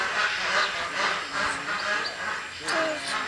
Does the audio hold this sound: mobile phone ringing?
no